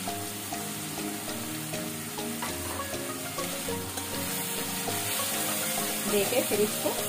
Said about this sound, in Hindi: मसाले को थोड़ा भून लेंगे